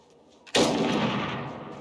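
A single loud gunshot in the video game Iron Harvest cracks after a quiet moment, its boom rolling and echoing away over the following second.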